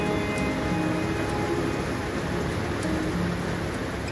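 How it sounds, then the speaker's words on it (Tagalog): Steady heavy rain pours down on a camper van campsite in Pangasinan in a dense, even hiss, unbroken throughout, with no voices. "Ang lamig at umuulan."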